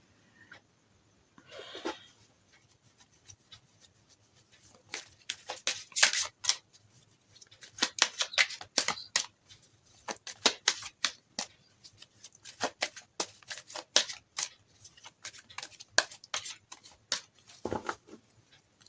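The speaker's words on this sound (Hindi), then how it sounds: "चलिए सबसे पहले हम कार्ड शफल कर लेते हैं।" Tarot cards being shuffled by hand at close range, with crisp riffling and flicking bursts coming in irregular runs and quiet pauses between.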